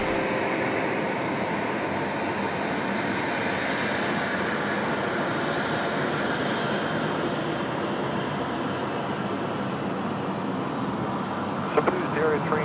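Jetstar 457 airliner arriving at Sydney Airport from Ballina, a steady broad jet roar that holds level and loud across the whole stretch.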